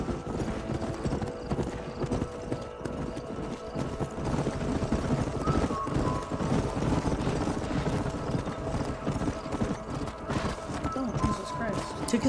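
Horse hooves clip-clop at a gallop in the Western video game Red Dead Redemption, a steady rhythmic pounding under continuous game noise, music and people talking throughout.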